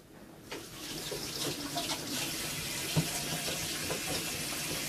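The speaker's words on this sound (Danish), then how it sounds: "Jeg vasker lige hænder." Hands washed under a running kitchen tap, heard as a steady, close rush of water that starts after a brief quiet moment and continues with small splashes and shifts in flow.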